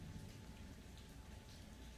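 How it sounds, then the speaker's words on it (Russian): Heavy rain pours down during an early-morning thunderstorm in Zaporizhzhia, a dense, steady roar of rainfall that holds at an even level throughout, with no voices. "ливень просто"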